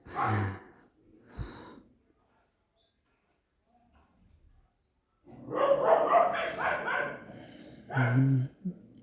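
A dog in Coimbatore barks in a few separate bursts, with short breathy sounds between and a longer run of barking near the end, against otherwise quiet surroundings.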